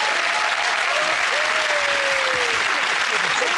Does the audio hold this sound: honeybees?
no